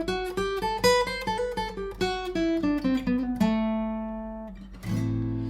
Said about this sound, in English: So here's what Dorian sounds like.